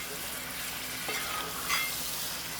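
Steady loud sizzling of mackerel frying on high gas as coriander is stirred in, a continuous close hiss with faint scraping of the spoon through the pan.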